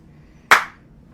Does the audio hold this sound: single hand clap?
yes